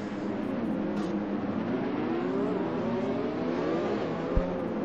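Red Bull Racing Honda Formula 1 car in a racing video game at Monaco, its engine a steady, loud, high-pitched whine rising and falling through gear changes for about five seconds, with a brief click near the end.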